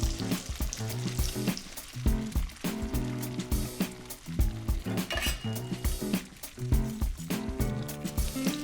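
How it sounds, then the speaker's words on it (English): Food coated with Parmesan cheese sizzles and fries loudly in a pan, a dense continuous crackle punctuated by clinks of utensils against the cookware, with no talking. "right into the pan. I'm gonna cook it for about 2 to 3 minutes on each side."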